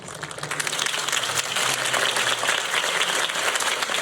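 Crowd applause after a campaign speech in Batman: The Telltale Series, swelling quickly into loud, steady clapping and cheering that holds without any speech.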